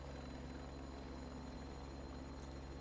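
An AB412 helicopter drones steadily and loudly throughout, its low rotor and engine hum unbroken and close, with no voices over it.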